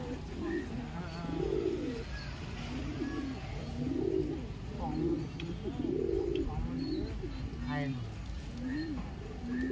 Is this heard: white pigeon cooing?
yes